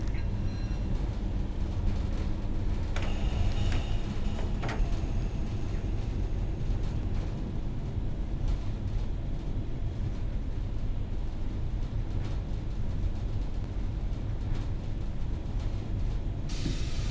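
A Class 31 diesel locomotive in Train Sim World 2 on the Reading to Paddington run: continuous low diesel rumble and rolling wheel noise, with brief rattling and clanking bursts partway through and no voices.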